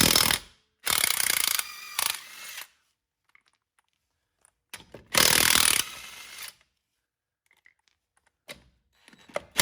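Lug nuts coming off a John Deere 2510 tractor wheel, heard as two long, loud bursts of impact or ratchet whirring, each a second or more, with scattered faint clicks and clanks between them.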